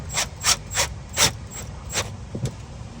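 A hand ratchet tightens Rally Armor mudflap bolts on a 2019 Subaru Outback, giving a close, steady series of sharp clicking pawl strokes, about six bursts in three seconds, over a low background hum with no talking.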